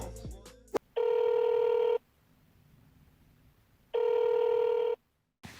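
A telephone rings for a phone interview call: two long electronic ring bursts, each about a second, separated by a quiet pause, preceded by a short click and brief noise.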